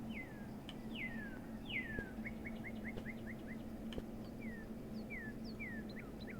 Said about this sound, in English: But I hear birds.